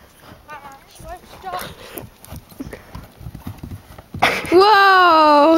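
Clip-clop of a horse's hooves walking while ridden, a steady rhythm close by under lively chatter, then a loud high-pitched squeal or whinny-like cry near the end.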